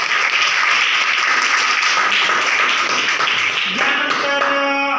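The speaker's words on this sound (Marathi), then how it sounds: "त्याच्यासाठी एका जोरात टाळ्या वाजवा" At a school science exhibition, an audience applauds a student's project with dense, loud, sustained clapping, and a few other sounds come through near the end.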